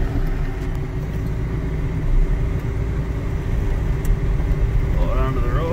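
2001 GMC Jimmy with 129,000 miles being shifted into drive and driven off, a steady close engine rumble from inside the cab with a faint rising tone near the end.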